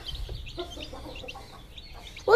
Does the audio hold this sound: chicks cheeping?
yes